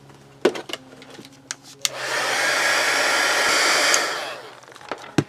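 A hair dryer blows on a tinted magazine page, running loud and steady for about two seconds before cutting off, with small handling clicks and taps before and after.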